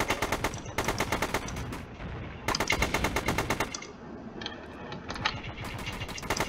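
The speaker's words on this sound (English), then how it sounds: "Oh, yep, he's shooting." Bursts of rapid automatic gunfire from weapons in the Stormworks war gamemode, coming in several loud, tight volleys with short pauses between them and no talking.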